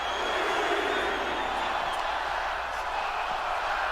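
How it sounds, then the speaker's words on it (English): Arena crowd in the WWE 2K25 wrestling game, a steady roaring wash of chanting and cheering that stays at an even level throughout, with a commentator's voice faintly present. "The crowd chanting one more time"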